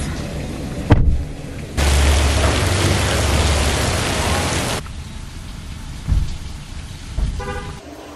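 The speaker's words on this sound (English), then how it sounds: "It's a rainy day in Dallas." Rain falls steadily outdoors on a rainy day in Dallas, a broad wash of patter with a heavier three-second stretch of downpour, plus occasional thumps, car noise and a brief horn toot.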